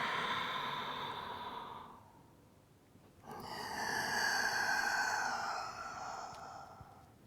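A slow, close breath is exhaled and then drawn again during a chest and spine breathing exercise, soft airy rushes separated by a brief quiet pause, with no talking.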